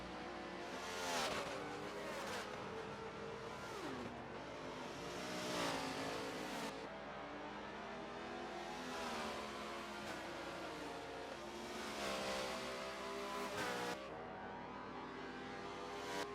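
A race car at the 6 Hours of Road America endurance race roars past, its engine note rising and falling in repeated revving surges across the stretch, fairly loud and steady with no talk over it.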